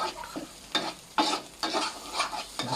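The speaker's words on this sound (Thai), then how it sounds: "ผัดผัดให้มันหอม" Ingredients for a Thai-style egg curry stir-fried in a pan with a low sizzle, broken by several short bursts of a utensil scraping and tossing at irregular intervals, close and moderately loud.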